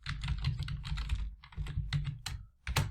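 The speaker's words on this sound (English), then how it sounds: "So let me type few more examples just to make it clear for you." Rapid, close typing on a computer keyboard, dense bursts of clacking keys with a brief pause before a final strong keystroke, no voices.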